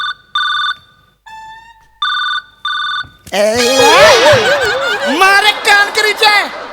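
A mobile phone rings with a few bright, repeated electronic tones, then loud laughter and excited voices take over.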